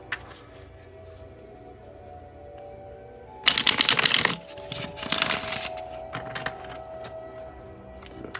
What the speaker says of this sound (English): So let's shuffle.